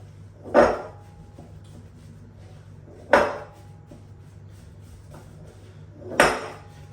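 An oat pie mixture is stirred in a good-sized bowl, giving three separate clattering scrapes at an even pace with quiet gaps between them, close and fairly loud.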